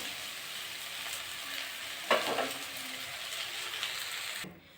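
Spring onion greens, radish, potato and broad beans fry in a pan with a steady close sizzle and a brief stir partway through, then the sound cuts off abruptly.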